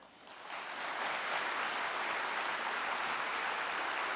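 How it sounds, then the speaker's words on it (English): A conference keynote audience breaks into a warm round of applause for Elizabeth Naramore, swelling within the first second into steady, even clapping heard from across a large hall. "warm round of applause"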